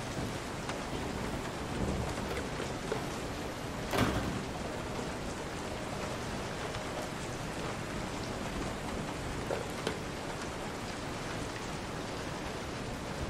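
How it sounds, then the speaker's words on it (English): Steady rainfall in Resident Evil 7 Biohazard, a dense unbroken hiss of rain on surfaces with a low thunder rumble and a brief sharper crack near the start, quiet and without talk. "Of course it's raining. Why wouldn't it be?"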